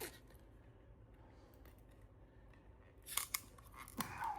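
A package of CDP choline gummies is opened, with quiet rustling that turns into a few sharp snips and crinkles near the end, close by.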